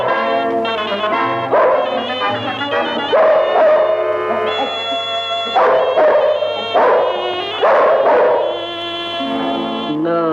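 A dog barks and howls in long, wavering, tuneful cries, loud and close, set within a film song with sustained musical accompaniment.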